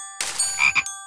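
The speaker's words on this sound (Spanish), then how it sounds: "Buen trabajo añadiendo ranas al coro." Cartoon frogs croaking together in a chorus, a loud, clear burst of several bright, tonal croaks in quick succession, heard alone.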